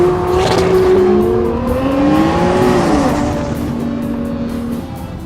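A 1400 hp AMS Performance Alpha 12 Nissan GT-R accelerates hard, its engine roaring loud and close with rising pitch, then easing slightly as the drone continues steadily.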